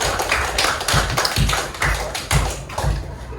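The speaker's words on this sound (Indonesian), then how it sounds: "Silakan beri tepuk tangan dulu." Group of students in an Indonesian classroom clapping together in a quick, steady rhythm, with loud, close, repeated claps and no talking.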